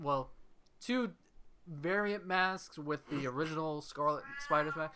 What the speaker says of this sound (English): my cat is meowing like crazy